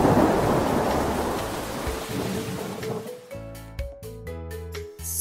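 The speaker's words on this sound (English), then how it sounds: "Stormy." A thunderstorm opens with a loud rumble of thunder over pouring rain, fading after a few seconds into a tonal musical jingle.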